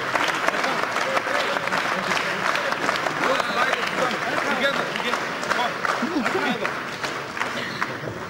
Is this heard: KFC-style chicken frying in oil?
no